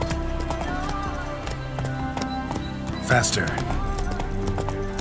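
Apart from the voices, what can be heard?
horse Roach galloping hooves, from video game Witcher 3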